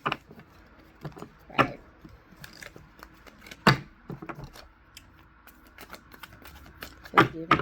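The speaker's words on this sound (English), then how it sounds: "just doing a little more shuffling now" Tarot cards being shuffled by hand, with scattered soft riffles and clacks at irregular intervals and a few sharper bursts standing out against quiet gaps.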